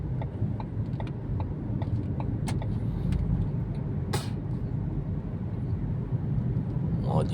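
Heavy car traffic rumbles steadily along a Riyadh ring road, a dense low roar with occasional brake hisses and passing vehicles, recorded from inside or beside a moving car.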